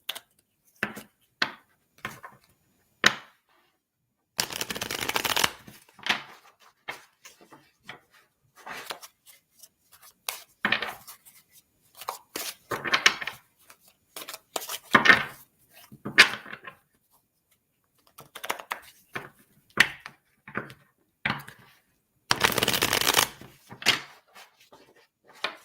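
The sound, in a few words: tarot cards being shuffled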